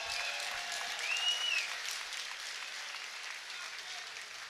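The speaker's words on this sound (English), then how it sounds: "Let's give a huge round of applause for these two great fighters" Crowd applause for two mixed martial arts fighters at a cage fight event, a steady wash of clapping that swells briefly, heard from a distance with the arena's reverberation.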